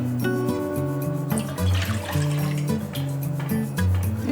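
Shoyu soy sauce pours into a pot in a steady, close stream, its gurgling pitch stepping and shifting over a few seconds with no voices.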